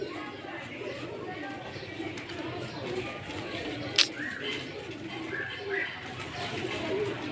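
Pigeons coo softly in the background, low, murmuring, repeated calls under steady talk, with a brief sharp click midway.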